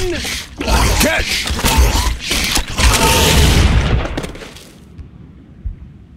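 Gunfire in the video game Serious Sam 4: a burst of booming shots and in-game voices fills the first four seconds, then fades to near silence with one last faint thud.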